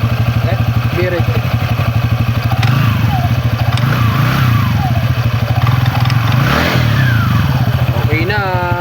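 TVS Ntorq 125 scooter engine revving after tuning of the fuel injection, throttle body and CVT: a close, loud, pulsing idle that rises and falls through repeated revs, with people talking over it.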